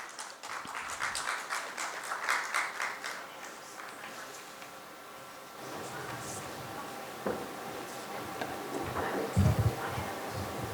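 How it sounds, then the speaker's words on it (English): Audience at a corporate conference on digital transformation claps for a guest joining the stage, quiet and scattered applause with some background chatter. "Can we welcome him with a big round of applause?"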